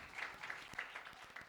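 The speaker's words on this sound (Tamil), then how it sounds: "நல்லா கைத்தட்டி" Applause from a church Christmas party audience, a short steady patter of many hands clapping at moderate volume, with a few sharper individual claps standing out.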